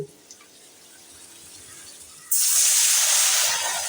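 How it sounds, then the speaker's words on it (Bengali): Water poured into a hot, empty wok after frying, quiet at first, then a sudden loud hiss of sizzling steam that holds steady and close. "কড়াইতে একটু জল দিয়ে নিলাম।"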